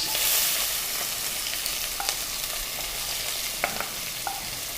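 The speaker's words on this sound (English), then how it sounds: "Let's add the curry leaves, the garlic, and the onions." Curry leaves, garlic and onions sizzle loudly in hot oil, a dense close crackle with a few spoon clinks as they are stirred, and no one speaks.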